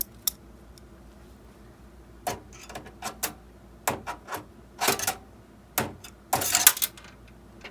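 A screwdriver drives a small screw into a keyboard case, giving a series of sharp clicks and ratcheting scrapes in uneven bursts, close and crisp against near silence, with no talking.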